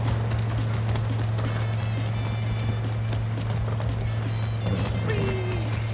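A horse's hooves clip-clop steadily in the video game Far Cry 6 beneath a constant low hum, with a brief whinny near the end.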